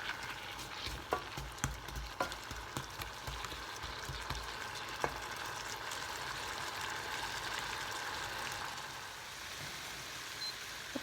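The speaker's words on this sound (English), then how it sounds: "So I'm just going to let them cook for a little bit and soften" Apples stew and soften in a pan with a quiet, even sizzle, and a run of light utensil taps near the start fades into steady bubbling hiss.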